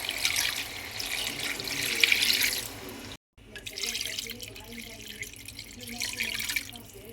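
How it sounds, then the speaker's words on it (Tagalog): Broth is poured into couscous cooking on the stove, a close splashing and trickling pour that breaks off briefly midway and then resumes more softly. "lagyan na natin ng sabaw"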